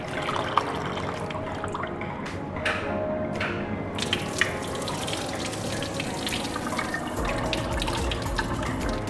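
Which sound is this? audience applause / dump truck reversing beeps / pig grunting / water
water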